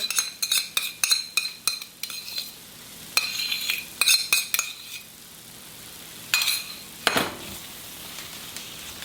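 A utensil stirs chicken with green peppers and red chili sauce in a sizzling pan, with a quick run of sharp metallic clinks and scrapes, then a pause and a few more, over a faint sizzle.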